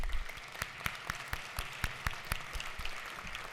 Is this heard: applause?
yes